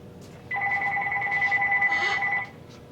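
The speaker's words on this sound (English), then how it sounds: "Gotta grab the phone, hold on." A telephone rings once with a steady electronic double-tone trill lasting about two seconds, clear and fairly close in a quiet room.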